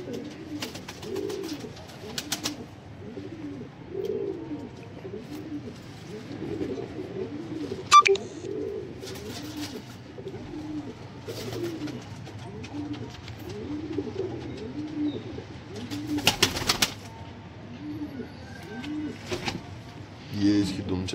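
Sialkoti pigeons coo on a rooftop in a steady rhythm of soft, repeated throaty rolls, with a few sharp clicks and rustles breaking through now and then.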